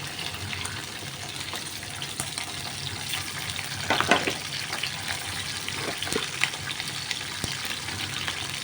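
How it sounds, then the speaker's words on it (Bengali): Capsicum pieces fry in a hot pan for a shrimp and capsicum curry, giving a steady low sizzle with a brief louder crackle and stir partway through. "প্রথমে ক্যাপসিকামগুলো ভেজে নেব ক্যাপসিকামগুলো দিয়ে দিচ্ছি"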